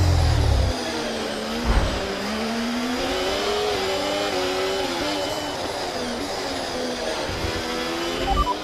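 A race car engine running hot in the F1 24 video game drones steadily at high revs, loud and continuous, with slight pitch shifts and a brief low rumble at the start.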